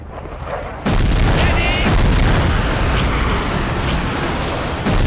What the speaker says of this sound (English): Air support is having another go at it.